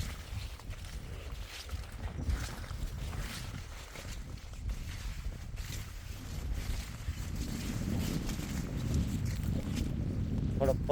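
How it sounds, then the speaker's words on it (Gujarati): Outdoor wind buffets the microphone in a farm field of mung bean crops, a low rumbling gusty roar that swells toward the end, with faint talk underneath. "થોડો પવનની છે."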